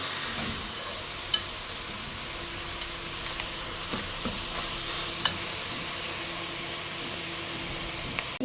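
Tripe sizzling in a hot pan while it is stirred, a continuous frying hiss broken by a few scraping clicks of a utensil.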